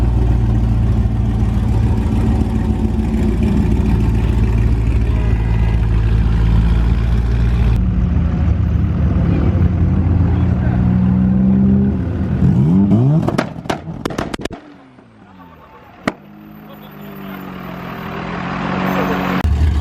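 A Dodge Viper V10-powered truck revs hard with a loud, sustained engine roar that shifts pitch, then drops away to a quieter rumble and builds again, with people talking nearby during a street racing meet.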